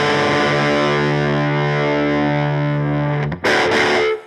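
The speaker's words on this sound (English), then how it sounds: "the real definition of drop D is that noise" A heavily distorted electric guitar, played with a slide, holds a droning chord while a low string is tuned down to drop D, then breaks off with a loud clunk and a scraping rattle at the end.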